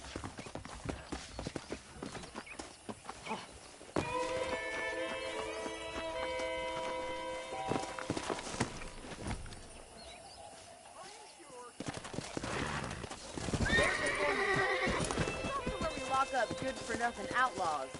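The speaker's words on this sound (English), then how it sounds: "Okay, let's see if you can still ride a horse." Steady clip-clop of a ridden horse's hooves in Red Dead Redemption 2, with snorts and a possible whinny, under stretches of character dialogue and a swelling western music score.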